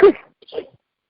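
A single short sneeze up close, followed by a faint breathy sound a moment later, then silence.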